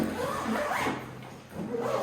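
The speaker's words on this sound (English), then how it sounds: "you close the second zipper." Zipper closing on a Nomatic travel bag, a short raspy zip pulled close by, with a faint background hum.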